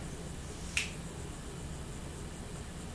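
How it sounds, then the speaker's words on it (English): A single crisp finger snap performed on stage at a comedy graduation show, sharp and brief, standing alone against faint room hiss. "by the time I say 1, I'm going to snap my fingers"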